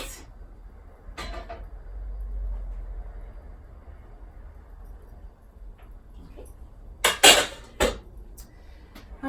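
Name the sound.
pot being placed on RV stove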